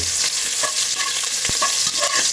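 Onions sizzle loudly and steadily in a pot for pork sinigang, a dense close frying hiss with light stirring clicks scattered through it.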